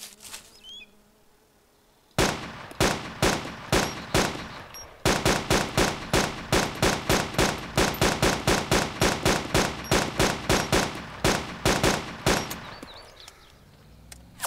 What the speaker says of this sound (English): I'm being shot from my right side.